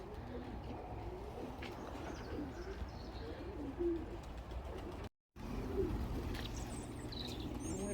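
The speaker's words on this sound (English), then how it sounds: "So all young birds having a flap about." Young pigeons flapping about in a loft during a long group flight, with steady soft cooing and scattered chirps mixed with rustling wing flaps, moderately loud and continuous with a brief silent gap.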